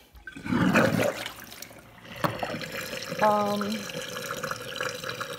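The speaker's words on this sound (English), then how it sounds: "I was soaking the sink so I can let the water out of the drain there" Soaking water gurgles and drains out of a kitchen sink, a close rushing, sloshing flow with a brief watery burble and faint household sounds around it.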